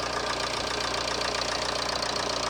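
A car engine idles with a steady, even rhythmic chug, close and constant, on a vehicle with an alternator fault that leaves the battery warning light stuck on.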